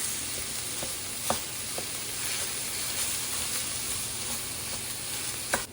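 Ground beef and sweet potato and lentil bake ingredients cooking in a pan, giving a steady close sizzle and hiss with a few faint scrapes and clicks, no voices.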